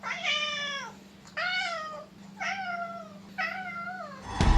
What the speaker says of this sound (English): One of my cats, Quinn, would even join in on the fun with him providing some real cat sounds